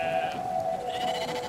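A sheep bleats in the video game Brothers: A Tale of Two Sons, one drawn-out wavering cry close by over low game ambience.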